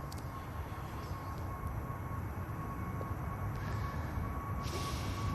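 An EasyJet airliner departing Manchester Airport, heard as a steady, broad engine roar that holds at an even level throughout with no voices.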